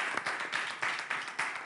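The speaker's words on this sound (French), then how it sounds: "Est-ce qu'on peut souhaiter la bienvenue à nos invités avec des applaudissements?" Applause from a crowd, a dense patter of many hands clapping at moderate distance, fairly soft and steady with slight swells.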